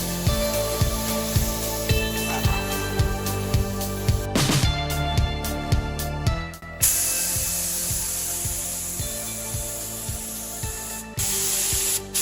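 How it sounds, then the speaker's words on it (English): Spray gun laying primer onto a masked-up VG Commodore ute body: a steady close hiss in long passes, broken by a few short bursts and pauses, with a rhythmic mechanical ticking underneath. "so let's get some primer onto it"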